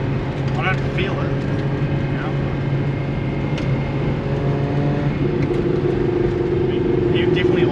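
A Nissan Laurel C33 with a fully forged RB25DET engine and a snapped, damaged axle drives along with a constant loud drone of engine and road noise and a faint whine, while voices murmur faintly inside.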